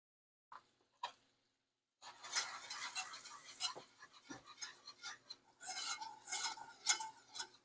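Flour is stirred into melted butter in a pan to make a thick roux for Salisbury steak; after a couple of faint clinks, steady close scraping and stirring runs continuously with no talking.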